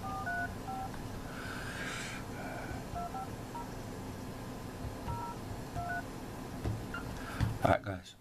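A phone's keypad sends a run of short, evenly paced touch-tone beeps while a call is being placed. The beeps sit over steady background noise, and a quiet voice and some handling clatter come in near the end.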